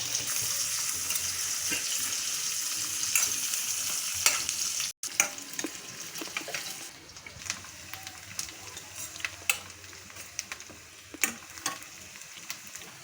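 Chopped onion fries in a pan with a bright, continuous sizzle, broken by scattered scraping clicks and knocks from stirring, close and without talk.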